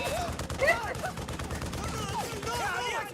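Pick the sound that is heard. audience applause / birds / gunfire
gunfire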